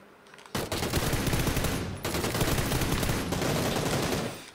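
Sustained automatic gunfire in PUBG, loud and close, comes in two long bursts separated by a brief gap and fading slightly at the end, with no voices.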